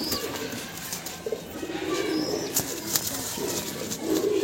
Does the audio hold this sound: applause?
no